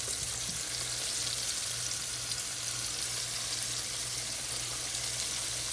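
Green tomato slices frying in a skillet, a dense, even sizzle holding steady throughout at close range with no talking.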